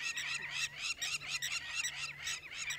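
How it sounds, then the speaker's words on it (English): Agitated birds calling on an African safari in the Sabi Sand bush at sunset, a dense run of loud, harsh, repeated squawks overlapping without pause, close by, with a faint low hum underneath and no talking. "The birds are getting upset."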